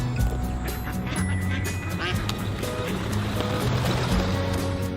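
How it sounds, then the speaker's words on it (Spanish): Ducks quack steadily by water, many overlapping calls close and loud over a continuous outdoor wash of background noise. "Qué hermosos son los patos, papá."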